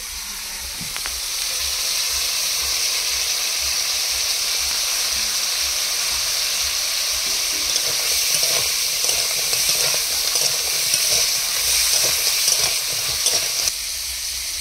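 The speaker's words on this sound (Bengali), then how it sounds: "কাঁকড়া ভাজার সাথে কেটে রাখা পেঁয়াজ রসুন দিয়ে একসাথে কষিয়ে নেব" Crab pieces fry together with chopped onion and garlic in a pan: a loud, constant close sizzle with hissing steam and scattered sharper crackles toward the end.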